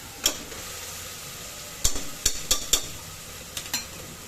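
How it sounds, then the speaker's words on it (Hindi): Soaked fenugreek seeds frying with garlic paste in a pan, a low continuous sizzle punctuated by several crisp spoon taps and scrapes against the pan, close by with no talking. "अब दाना मेथी को लहसुन के साथ हमें थोड़ी देर के लिए कुक करना है।"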